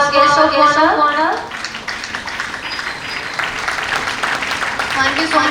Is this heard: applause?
yes